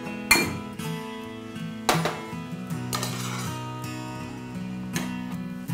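Sautéed okra is scooped from a pan into a bowl with a metal spoon, sharp ringing clinks and scrapes landing in bursts against the cookware, close and clear with no speech.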